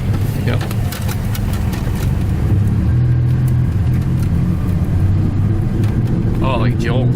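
A KTM 500 motorcycle engine runs and rumbles roughly, a loud continuous low drone with uneven bumps, while people talk over it.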